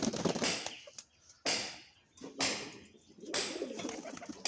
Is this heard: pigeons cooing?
yes